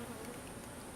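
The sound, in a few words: bees buzzing at a beehive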